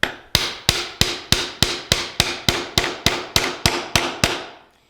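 A hammer strikes a wooden block to seat a dovetail drawer joint, about a dozen sharp, evenly spaced taps, close and loud, ending in a short silence.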